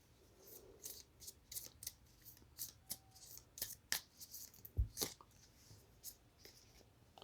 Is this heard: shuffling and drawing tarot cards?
yes